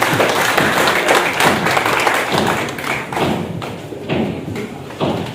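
A political gathering's audience claps to welcome a Congress MLA, a dense, steady wash of hand claps and thuds filling the hall at close range without letup.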